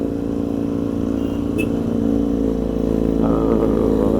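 A motorcycle with a loud exhaust roars close by, a steady, throaty engine drone that continues throughout.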